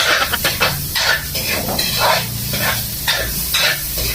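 Garlic and onion sizzle and fry in hot oil for a pork sotanghon dish, a steady hissing spatter with repeated bursts of stirring and spitting throughout, fairly close and loud with no talk.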